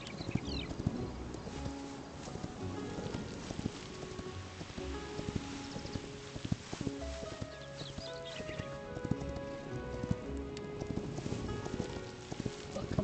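Horse hooves clip-clopping in the video game Hytale, a steady run of hoof beats with occasional whinnies over a soft rain-like background, no speech.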